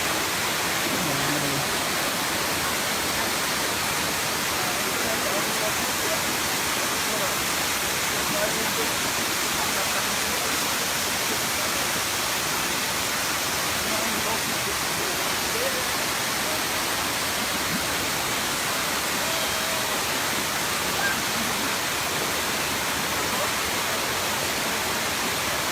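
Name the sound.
Erawan waterfall, tier 7, flowing water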